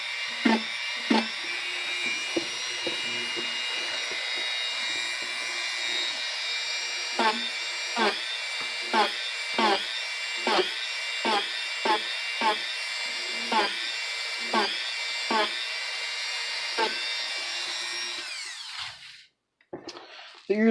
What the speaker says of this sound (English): so I'm going to go ahead and finish all of this work with the Dremel